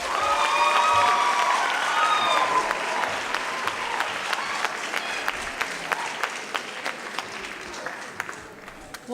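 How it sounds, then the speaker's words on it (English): Audience at a high school sports awards ceremony breaks into a warm round of clapping, loud and dense at first with a few cheers, then thinning into scattered claps that fade out toward the end. "Can we please have a warm round of applause for Kamiso Motang?"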